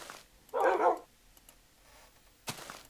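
One loud close bark rings out in Minecraft, followed by quieter yips and a sharp second bark near the end over faint background noise.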